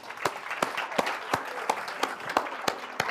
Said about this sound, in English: let's give a round of applause to our president